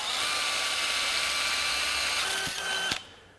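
A drill with a Spyder split-tip bit widens an existing pilot hole, a close steady high whine that runs continuously, then a couple of sharp clicks as it stops abruptly, no talking.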